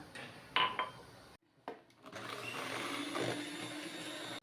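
An electric mixer whirs as it beats a sweet cake batter, starting with short clattering bursts, then stopping briefly before running again with a steady, moderate drone.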